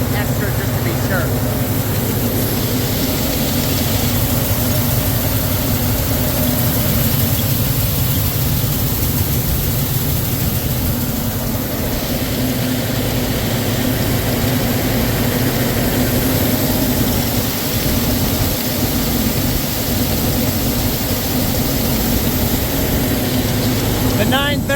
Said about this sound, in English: The 930 works awesome on this grain auger.